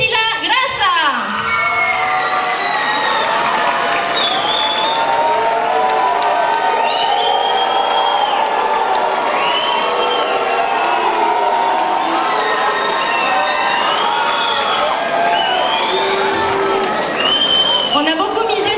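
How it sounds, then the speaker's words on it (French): Pageant audience at a Miss Portugal event in Argenteuil applauding and cheering for the first runner-up, a loud sustained mix of clapping, shouts and high whoops from a packed crowd that keeps going throughout. "Je vous demande de l'applaudir comme il se doit."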